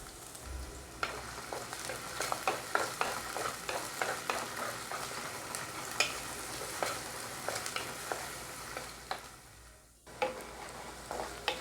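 Crushed ginger, garlic and chopped onion fry in a hot pan with a steady sizzle, stirred in repeated scraping strokes, close and moderately loud, with no voices.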